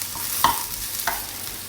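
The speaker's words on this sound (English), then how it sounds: "And give it all a stir around. It basically just wants regularly stirring." Mushrooms frying in a pan get stirred around in two short scraping strokes over a soft, steady sizzle, close by and with no one talking.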